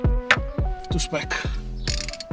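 A torque wrench clicks as it tightens a bolt during servicing of an Audi S3, giving a quick run of close, crisp ratcheting clicks in a fairly steady rhythm over about two seconds.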